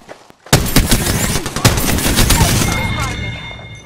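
Rapid gunfire bursts in an Apex Legends ranked match, loud and close, with dense overlapping shots after a brief quiet start and sharp cracks continuing throughout.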